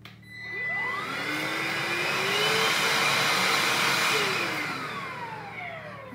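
A Beldray Cordless Quick Vac Lite vacuum cleaner runs on its low suction setting, spinning up quickly into a steady, close airy roar with a high motor whine that sways in pitch, then eases slightly toward the end.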